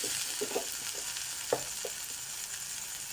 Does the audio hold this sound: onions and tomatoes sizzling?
yes